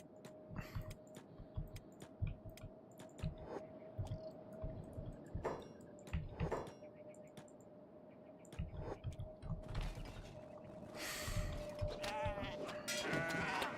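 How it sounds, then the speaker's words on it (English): Goats bleat during a fight in the video game Kenshi, repeated short bleats and squishy impact hits scattered through a steady game tone, growing busier toward the end. "Well, we're gonna fight the goats."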